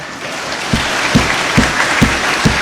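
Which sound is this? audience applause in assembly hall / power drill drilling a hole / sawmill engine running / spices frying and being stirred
audience applause in assembly hall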